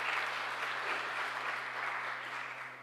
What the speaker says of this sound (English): give them a round of applause as they make their way to the front